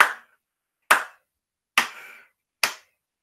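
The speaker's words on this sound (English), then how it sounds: "This is the part where you start clapping." A performer at a high school theatre showcase claps hands four times in a slow, even rhythm, each sharp, close, loud clap ringing out alone against silence.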